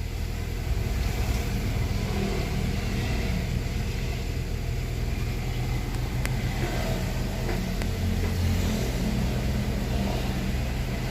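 A Honda Jazz engine idles steadily at low RPM after repair for a DTC P1519 fault, a continuous close rumble that holds even throughout, with no voices.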